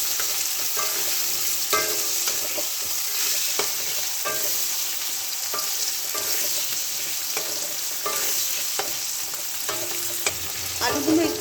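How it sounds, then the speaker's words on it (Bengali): Potatoes stir-fried in a pan for a Bengali pui-mituli chorchori with winter vegetables, a steady close sizzle broken by repeated scraping strokes of a spatula against the pan, with no talking. "আলুগুলো দিয়ে একটু ভালো করে মিক্স করে নেব।"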